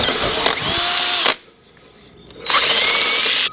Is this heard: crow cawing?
no